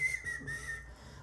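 A man imitates a short, casual whistle with his own lips: a thin, sustained tone lasting about a second, close and fairly quiet, with no talk over it.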